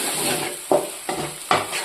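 Onions sizzle steadily in a hot pan, browning while a utensil scrapes and stirs them in sharp, occasional strokes.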